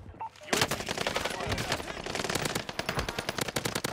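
Rapid, loud automatic gunfire in the video game Call of Duty Warzone on the Fortune's Keep map, with bursts of shots cracking almost continuously after a brief quiet start.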